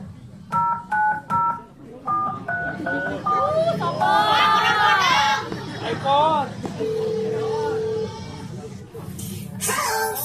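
A telephone keypad is dialed during a school showcase performance in Bandung, with a quick series of clear, loud beeping DTMF tones at the start, followed by other tonal electronic sounds and vocal noises.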